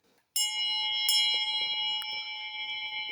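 A large hand bell from a collection rings loudly up close, struck about three times, with a bright, sustained metallic tone that rings on and slowly decays, and no voices over it.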